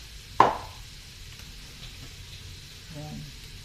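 Water poured into a hot pan of papaya and chicken liver adobo: one sharp splash bursts into loud sizzling, then fades to a quiet simmer while someone talks over it.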